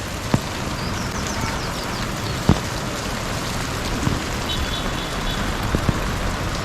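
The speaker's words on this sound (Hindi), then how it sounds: "इन्हीं बादलों की वजह से ज़्यादा बारिश हो रही है यहाँ पर" Heavy rain falling at Nainital lake, a dense, constant hiss of downpour with scattered louder drips and thuds close by, the sound of vehicles passing faintly beneath, and no talking.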